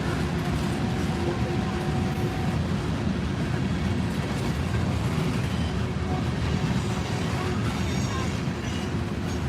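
CN freight train of boxcars rolling past on Horseshoe Curve, Pennsylvania, a steady broad rumble of wheels and cars that holds loud and even for the whole stretch, with faint rail squeal.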